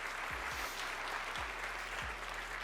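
A seated audience claps in a steady, dense patter, moderately far and fairly quiet, under a low electronic hum with occasional sliding low tones.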